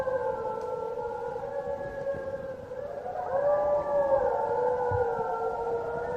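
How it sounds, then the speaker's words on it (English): Recorded chorus of wild wolves howling: several long, wavering tones overlap and glide in pitch, swelling louder about halfway through and carrying steadily to the end with no talking. "in the natural world, there may be no sound that is more iconic or haunting than the sound of wolves howling"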